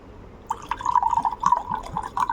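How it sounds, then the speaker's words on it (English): Water trickles and splashes into a glass of Red Label whisky, a close, steady pour with bright dripping and glassy ringing for about two seconds. "We are gonna put apt amount of water."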